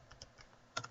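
Quick, quiet keystrokes on a computer keyboard while entering Java code, a few soft clicks ending in a slightly louder cluster, no voices.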